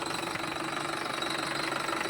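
A tractor engine idling steadily on a farm field, a low, even mechanical hum with a faint knocking rhythm, moderately quiet and continuous with no talk.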